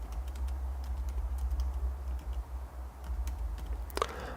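Rapid, continuous typing on a computer keyboard during a live coding session, a dense run of light close clicks over a low steady hum, ending with one slightly louder key tap.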